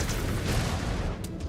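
Missile fire and explosions in the MechWarrior 5: Clans video game, a dense, loud, rumbling wash of booms and blasts that stays near and continuous throughout, with a brief sharp burst near the end.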